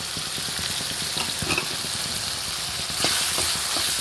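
Tomatoes with garam masala, chili powder, salt, turmeric and coriander powder frying in a pan make a close, even sizzle with a crackling spatter and occasional stirring scrapes.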